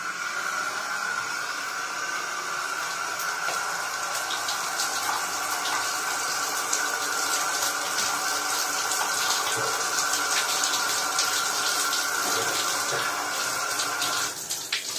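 Water runs steadily from a tap during a hair rinse, a continuous broadband hiss and splash that holds fairly evenly throughout, with no talking.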